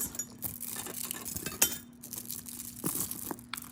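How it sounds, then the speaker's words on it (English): Glass pearls handled and clinking together, giving light, scattered clicks and taps close by over a steady low hum. "Some pretty glass pearls."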